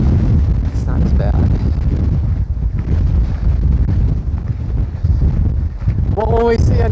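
Strong wind buffets the microphone in a constant loud roar on the Arizona Trail, with a brief voice cutting in near the end.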